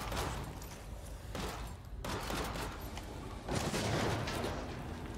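Gunfire in the twin-stick shooter Solstice Chronicles MIA: dense, continuous bursts of shots and booming blasts fill the whole stretch, loud and layered, with a brief drop in intensity around the middle.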